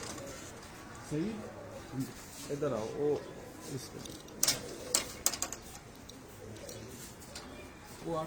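Pigeons coo repeatedly at a breeding loft, soft and near, under men's speech, with a few sharp clicks and taps in the second half.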